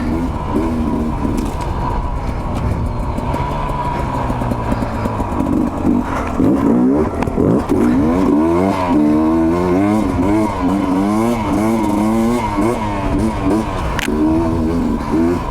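A Sherco 250 SE Factory two-stroke dirt bike is ridden off-road, its engine loud and close throughout, revving up and down through the gears with a buzzy, warbling tone and no break in the noise.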